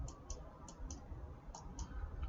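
Light computer keyboard key clicks, about eight separate taps coming in small uneven clusters, quiet and close over a low steady background hum.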